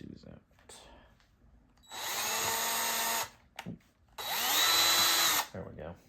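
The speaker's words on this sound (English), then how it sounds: "got my little 1/8 inch drill bit here, and we're going to draw some guide holes" Power drill with a 1/8 inch bit drilling guide holes while repairing a wooden sliding door, two loud steady whirring bursts of about a second each, the pitch dropping as each ends, with light handling noises between.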